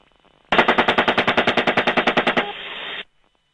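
Helicopter-mounted gun fires at a van in a rapid, loud burst of about twenty evenly spaced shots, followed by a brief sustained roar that cuts off abruptly.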